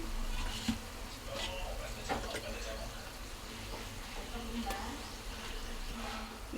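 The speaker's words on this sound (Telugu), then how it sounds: "అల్లం వెల్లుల్లిపాయ పేస్ట్ పచ్చివాసన పోయేంత వరకు ఫ్రై చేసుకున్నామండి" Ginger garlic paste frying with onions in a pan for chicken curry, a continuous close sizzle with stirring scrapes and a few sharp clinks, while someone talks over it.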